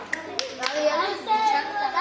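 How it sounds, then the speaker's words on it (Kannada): A few sharp hand claps ring out early, standing out at the start of a home lesson on children's neat handwriting, followed by people talking over the rest. "ಚಪ್ಪಾಳೆ ನೋಡ್ರಿ"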